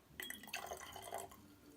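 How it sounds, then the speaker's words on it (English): Liquid pours into a container, a steady splashing, bubbling stream lasting about a second before tapering off, close and moderately loud with no talking. "let's go ahead and pour all of it in"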